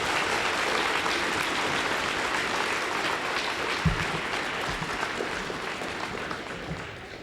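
An audience applauds students at a Dr. King birthday event, a steady, fairly loud round of clapping that holds throughout and slowly fades toward the end.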